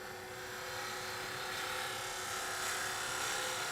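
A spindle gouge cuts a cherry wood box spinning on a wood lathe, giving a steady, even, continuous hiss and whir with no breaks.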